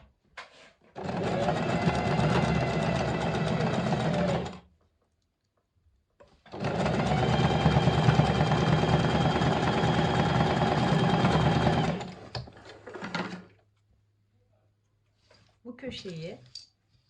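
Sewing machine stitching the corner of a lining, running in two long steady bursts with a short pause between, followed by a brief low hum and a few faint clicks.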